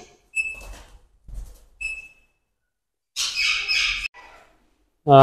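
Birds in a bird nursery in Namangan give scattered squawks and squeaks: a few short, thin whistled notes, then a harsh, buzzy burst of squawking lasting about a second. A louder squawk cuts in at the very end. The calls are close, with no talking.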